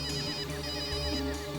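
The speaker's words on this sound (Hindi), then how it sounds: "ऋषभ का फोन यहीं कहीं बज रहा है।" A mobile phone rings somewhere close by in a wooded spot, its electronic ringtone pattern repeating steadily for a moment over a soft background hum, with no voices heard.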